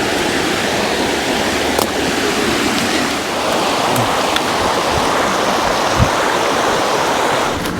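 A river flows steadily past its bank in a lakeside park, a loud continuous rushing wash close by with a few faint knocks over it, and no one speaking.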